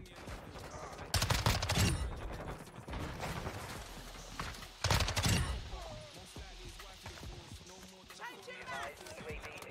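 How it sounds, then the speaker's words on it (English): Reloading an MX9 submachine gun in Modern Warfare 2 gives a string of sharp mechanical clacks and two louder clattering bursts, close and busy, under someone talking through most of it. "This gun reloads really slow"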